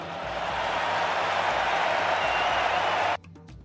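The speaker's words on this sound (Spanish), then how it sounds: "que vitorean los partidarios de Vox presentes en el lugar" Vox supporters cheering and applauding at a political speech, a sustained wash of crowd noise at steady volume that cuts off abruptly, followed by a brief voice.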